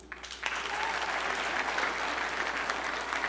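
A comedy-club audience of single people breaks into loud, dense applause that starts suddenly and then holds steady, filling the room until the clip ends.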